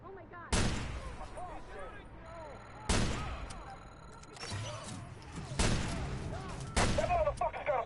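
Watch Dogs gunfire: four or five sharp, loud shots spaced a second or two apart, each with a short tail, over a bed of excited voices.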